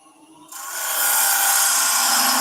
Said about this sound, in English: We're going to do a parting tool cut down to that rough 3/4 of an inch